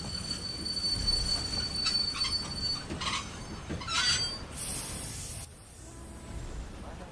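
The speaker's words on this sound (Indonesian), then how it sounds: "Saya dalam perjalanan bisnis naik kereta ekspres Jakarta-Jogja saat kereta tiba-tiba berhenti." An express train on the Jakarta–Jogja line brakes to a sudden stop, steel wheels squealing loudly over a steady rumble of rolling carriages, with high screeching tones that cut out near the end.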